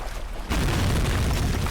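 A loud, heavy explosion from the video game Amnesia: The Fugitive, bursting in suddenly after a quieter rumble and sustaining as a dense, roaring blast of noise, with no talking.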